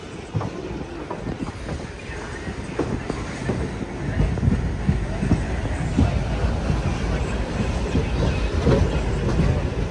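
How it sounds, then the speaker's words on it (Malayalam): A passenger train from Cheruvathur pulls into Mangaluru Central railway station with a heavy rumble and rhythmic clickety-clack of wheels over rail joints, growing louder and closer, with some wind buffeting the microphone. "ട്രെയിൻ ഇതാ മംഗളൂരു സെൻട്രൽ റെയിൽവേ സ്റ്റേഷനിലേക്ക് എത്തിക്കൊണ്ടിരിക്കുകയാണ്"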